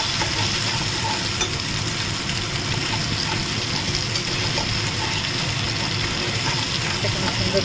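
Ground spice paste hits hot oil in a pan after a tempering of cumin, bay leaf, dried chilli and whole spices, giving a steady, dense hiss and sizzle that stays level throughout.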